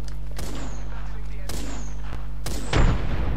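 Three sharp gunshots from an Apex Legends firefight, evenly spaced about a second apart over a steady low hum, with a louder burst of noise near the end.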